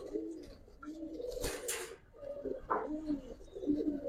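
Pigeons coo in a pigeon seller's loft, soft low repeated coos running through the clip with a brief burst of noise midway and other pigeons fluttering nearby.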